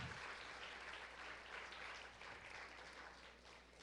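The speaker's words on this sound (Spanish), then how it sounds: "Denle un aplauso al Señor" Church congregation applauding during a Spanish-language worship service, a steady wash of clapping from many hands that stays continuous and moderately loud throughout, with no talk over it.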